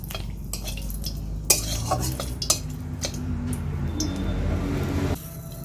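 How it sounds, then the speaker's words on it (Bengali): Bay leaves and dried red chilies stirred in hot oil in a kadai, with repeated sharp metal spatula scrapes and clinks over a low, steady sizzle; no one speaks. "তেল গরম হয়ে গিয়েছে, দিয়ে দিচ্ছি তেজপাতা, শুকনো লঙ্কা, একটু নেড়ে চেড়ে নিচ্ছি"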